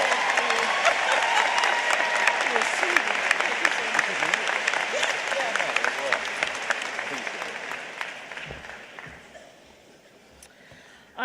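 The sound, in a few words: applause at a graduation ceremony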